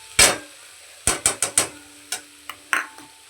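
Fenugreek greens with crushed peanuts being stirred in a pan, heard as a handful of separate scraping clacks with one sharp hit, then a few more scattered strokes, close and fairly loud with no talk.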